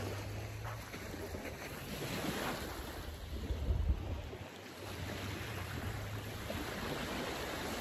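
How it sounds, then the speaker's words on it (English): Wind gusts buffet the microphone over a continuous wash of surf on a Lake Erie beach, with a stronger rush midway before settling back to a steady blow. "Now that it's a little bit windy and it's warm."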